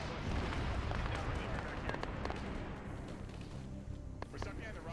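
Rocket explosions and heavy gunfire in the military shooter Arma 3, a dense loud barrage of booms and cracks with bursts throughout, noisy and continuous without talk.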